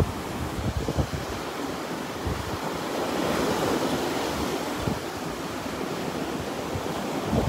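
Surf rolls in steadily at Delnor-Wiggins beach on a morning walk, a continuous close wash of breaking waves with some wind rumble against the microphone and no talking.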